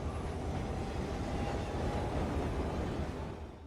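Steady low rumble and rolling clatter of a train moving along the tracks, continuous and fairly loud, easing slightly at the end.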